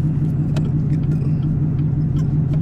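A manual Chevrolet Camaro ZL1 crawling slowly through a parking lot, its engine a steady low rumble and idle drone, close and continuous with no talk.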